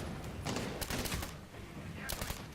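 Gunfire in the video game Medal of Honor Warfighter, bursts of rapid shots with sharp cracks in clusters, moderately loud, with a voice faintly present underneath.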